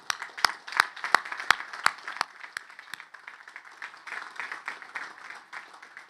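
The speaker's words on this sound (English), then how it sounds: "Let's give them a round of applause." Audience at an Army academy graduation breaks into applause, a few sharp close claps at first, then a steady spread of clapping from the crowd that slowly thins out.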